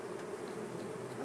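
Honey bees buzz steadily during a hive inspection while drone comb is removed, a faint continuous drone with no talk over it.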